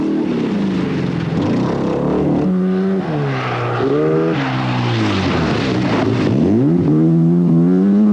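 A rally car engine at the 1982 RAC Rally roars and revs up and down, pitch rising and falling through gear changes, loud and close with no talking.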